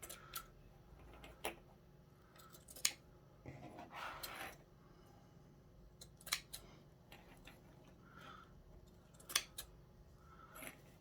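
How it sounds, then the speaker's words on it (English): Quiet, intermittent snips of scissors cutting veiling material for a hat brim, short crisp clicks scattered across a soft background hiss, close by and with no voices. "I still have way too much, so I'm going to cut some off."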